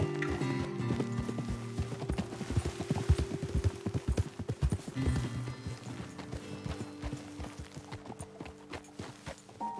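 Horses' hooves pound out a rapid gallop in the Western open-world game Red Dead Redemption 2, a busy rhythmic clatter running throughout, with tonal music and game sounds layered beneath.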